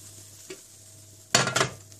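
Pickled green beans coated in cornmeal frying in a covered pan, a low steady hiss with a soft clink, then a sudden loud burst of sizzle as the pan is handled, close by.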